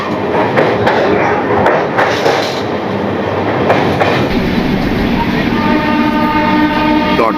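A running passenger train crosses the Kolaghat bridge over the Rupnarayan river, rumbling and clattering loudly and steadily throughout with rhythmic wheel clicks and a drawn-out horn tone in the latter half.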